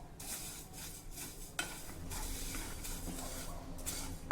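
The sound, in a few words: fennel seeds roasting in a pan on low gas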